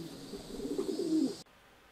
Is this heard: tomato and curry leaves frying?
no